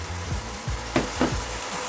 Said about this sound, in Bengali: মশলার সঙ্গে আমি মটরটাকে কষিয়ে নেব